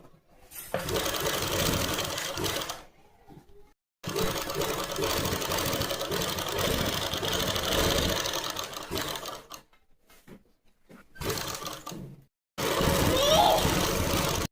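A sewing machine stitches a pocket onto a palazzo, running close and loud in several bursts of rapid mechanical whirring separated by brief pauses.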